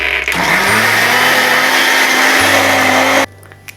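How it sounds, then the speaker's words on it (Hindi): A kitchen mixer grinder whirs loudly and continuously while blending an oats smoothie, its motor shifting pitch partway through before cutting off abruptly near the end. "ग्राइंड कर लेंगे, मिक्सी की शेक बना लेंगे इसका।"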